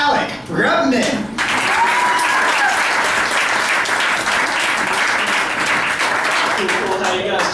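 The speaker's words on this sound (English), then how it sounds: "Round of applause for Alec Rubman." A comedy club crowd at Broadway Comedy Club breaks into loud, sustained applause and cheering that fills the room, with a voice speaking over the start and the clapping continuing strongly to the end.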